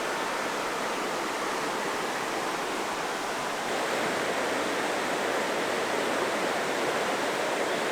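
A river flows with a continuous, broad rushing wash of water, steady and fairly close throughout, with no voices.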